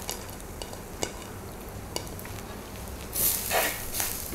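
Small shrimp stir-fry in a pan with a steady sizzle and the scrape and tap of a spoon stirring, a few distinct knocks, then a louder burst of sizzling near the end, with no voices over it.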